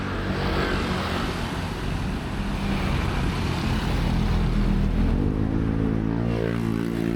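Scooters and cars streaming past on a busy street in Angeles City, Philippines, a close, loud wash of engines with one motor revving and rising in pitch as it passes near the end.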